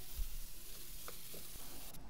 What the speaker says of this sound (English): And stir frying the broccoli and carrots, vegetables first before the meat.